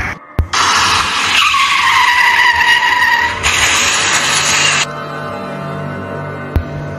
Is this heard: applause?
no